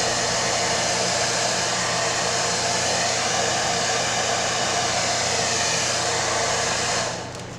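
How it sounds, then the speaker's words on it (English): A blow dryer runs on its highest setting to curl newspaper paper flowers, a loud, constant rushing roar that holds steady for several seconds and then fades as it is switched off. "And this is just a blow dryer."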